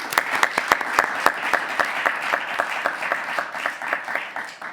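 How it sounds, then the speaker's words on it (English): Applause from a sizable audience, steady clapping with a few sharp individual claps standing out, sustained for several seconds. "a warm, big applause by all of us"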